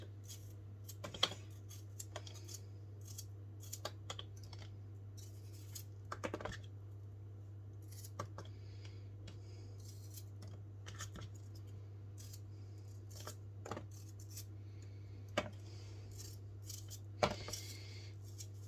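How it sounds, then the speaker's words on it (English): Dough for pudding pockets is cut into small pieces, heard as faint, sparse snips and taps spaced a second or more apart over a steady low hum. "So I'm just going to cut them into small pieces, or middle small pieces."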